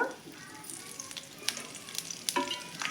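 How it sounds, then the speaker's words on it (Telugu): Peanuts fry in a little oil with a soft continuous sizzle, broken by sharp crackles and pops that come at irregular moments. "కొద్దిగా ఆయిల్ వేసానండి ఇట్లా ఆయిల్లో ఫ్రై చేసుకుంటే"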